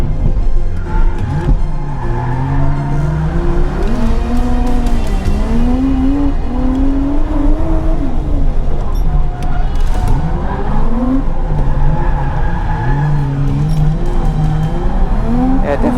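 A car drifting through tight hairpins on a Japanese street course, engine loud and constant with long wavering tire squeals that rise and fall as it slides from corner to corner.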